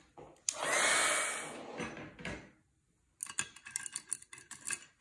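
A hair dryer drying paint on a painting blows in one steady whoosh of about two seconds. Quieter clicks and handling taps follow after a short lull.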